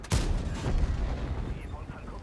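A tank's main gun fires in a tank video game, one heavy booming shot with a rolling, fading rumble, loud and close.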